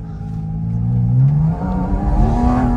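A sports car's engine roars and revs while drifting, a loud, close, sustained growl with rising pitch swells and a brief dip midway.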